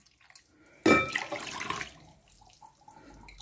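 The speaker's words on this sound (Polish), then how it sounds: "zalewamy sobie galaretkę i rozpuszczamy" Hot water is poured over jelly to dissolve it: a sudden splashing gush starts, then settles into a softer trickling pour that fades away, fairly quiet and close.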